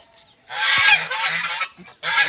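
A domestic goose honks in loud, harsh bursts close by, one long blaring call followed by a shorter one after a brief pause.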